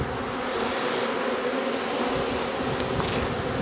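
Honey bees are shaken off a hive box during a shook swarm, filling the air with a dense, steady, close buzzing from many insects at once.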